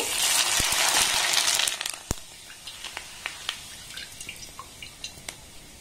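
Rice flour papad frying in hot oil, first a dense bubbling sizzle, then dying away into scattered sharp pops and drips as the oil settles, close and fairly quiet.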